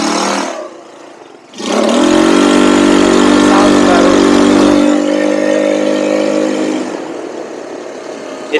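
A cheap 300-dollar buggy engine revs up on a test drive, climbing quickly into a loud, sustained drone that holds steady, then eases off toward the end, heard close up with no talking.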